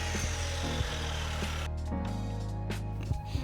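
Steady power-saw whine cutting dozens of wood pieces in a woodworking course shop, loud and continuous with a shift in pitch partway through as the blade passes through the stock.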